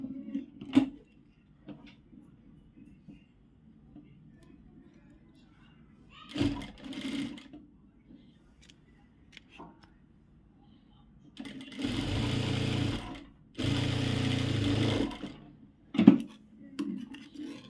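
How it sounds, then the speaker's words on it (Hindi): A sewing machine stitches velvet fabric for a girl's Christmas frock in two loud whirring runs of about two seconds each, with someone talking before, between and after the stitching. "सिर्फ ये वाला जो स्ट्रेट पार्ट है उसमें हम सिलाई कर लेंगे"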